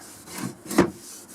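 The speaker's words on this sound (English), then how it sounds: "these are just antiseptic wipes or alcohol wipes. Give it a bit of a rub down" Alcohol antiseptic wipes rubbed over an old East German steel helmet during restoration, two or three short, close scrubbing swipes with a firmer stroke in the middle, no talking.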